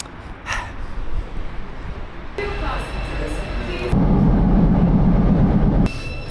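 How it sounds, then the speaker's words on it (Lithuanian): Rolling noise inside a metro and train carriage during a long ride, a steady rumble with shifting levels and a louder section near the end, with people talking faintly in the background. "jau beveik 2 valandas, kaip važinėjasi metro ir traukiniais"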